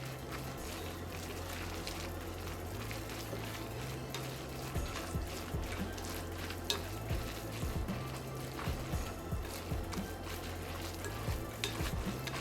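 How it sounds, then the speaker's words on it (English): Parmesan cheese being mixed into a sizzling pan, with a steady frying hiss throughout and soft stirring scrapes and taps close by. "And that Parmesan cheese going right in. Give this a mix."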